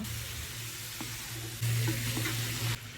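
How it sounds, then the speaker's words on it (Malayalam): Washed chicken with salt, chili powder and coriander powder is sautéed in a pan for chicken yakhni pulao, a continuous close sizzle that swells louder partway through as it is stirred. "കഴുകി വൃത്തിയാക്കി വെച്ച ചിക്കനും കൂടെ ആഡ് ചെയ്തിട്ട് ഒന്നുകൂടെ ഒന്ന് വഴറ്റിയെടുക്കുക"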